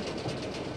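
A low, steady rumble of mine railway cars rolling along tracks toward a gate at a collapsed mine rescue site in east China, continuous and moderately loud with no voices.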